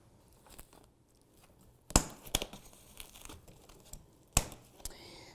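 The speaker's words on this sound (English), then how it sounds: "the first thing that we're going to do is we're going to cut the zip ties that are holding the seat" Scissors snip through zip ties holding the seat to a Glion Mini Model M1 scooter in its packaging, giving a few sharp close cuts amid quiet crinkling of plastic and cardboard.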